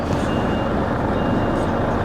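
A UK lorry sounds its reversing warning beeps, steady tones heard close over a constant diesel engine rumble, with no talk.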